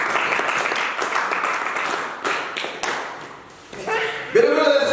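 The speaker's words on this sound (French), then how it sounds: "Acclamez," A church congregation applauds in a steady, crowded patter of claps that dips briefly, then returns louder as voices rise over it near the end.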